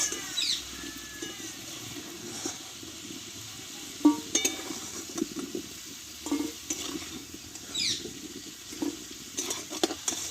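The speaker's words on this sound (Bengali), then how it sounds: "দেখো আলুটা কিন্তু পুরোপুরি আমি কষে নিয়েছি এবার তেল থেকে আলুগুলোকে আমি তুলে নেবো" Potatoes fry in hot oil in a pan as they are lifted out, a soft continuous sizzle with intermittent clinks and scrapes of a utensil against the pan.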